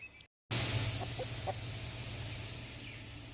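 Farm chickens cluck in a few faint, scattered calls over steady outdoor background noise, with no voices.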